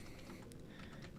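Quick, soft keystrokes on a computer keyboard as a Minecraft command is typed, a steady close patter of taps over low background hum with no talking.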